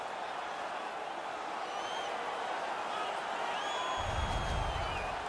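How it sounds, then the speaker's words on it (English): A crowd roars and cheers after a fight in the ice hockey game NHL 18 on PS4, a broad steady arena din with a few whistles and a deeper swell near the end. "The crowd is ecstatic."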